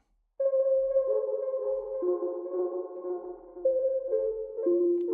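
Synth tones pass through the Yonac Zodiak ECHO vintage tape delay and then a spring reverb, a sustained chord-like melody that moves between pitches, with echoes and a lingering metallic tail, clean and upfront.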